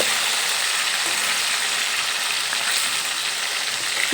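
Bele fish frying in a pan over a gas flame as the pieces are turned over, a loud, unbroken hiss of hot oil that stays close and steady throughout.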